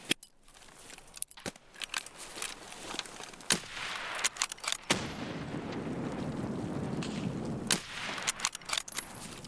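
Sharp gunshots from Escape from Tarkov (SPT), a string of loud single cracks spread irregularly through the scene over a steady rumbling game ambience, with a denser rustling stretch in the middle and no talking.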